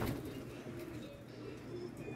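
Soft, low cooing from pigeons in a loft, steady and faint beneath room noise, with no clear talk.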